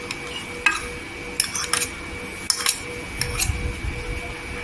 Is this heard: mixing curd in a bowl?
yes